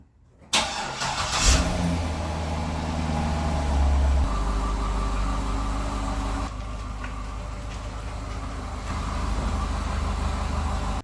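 A C6 Corvette engine cranks and starts, then settles into a steady idle and rumbles as the car pulls out inside a garage, close and loud throughout.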